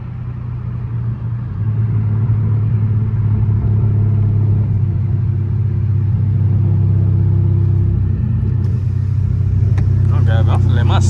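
A straight-piped widebody Dodge Charger Scat Pack at wide open throttle gives a loud, steady, deep exhaust drone that builds slightly early on, heard from inside the car, with a voice briefly joining near the end.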